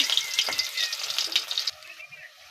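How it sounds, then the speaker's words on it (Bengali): Cumin seeds and chopped onion frying in a wok give a fairly quiet crackling sizzle with a few light stirring sounds, which drops suddenly to a faint hiss near the end. "এবার কড়াইয়ের ভিতরে দিয়ে দেবো আমি জিরা ফোড়ন, তারপর দেবো পেঁয়াজ কুচি"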